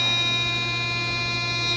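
An elevator chime sounds as a steady, sustained electronic tone, loud and close, holding for the whole short moment with no talk over it.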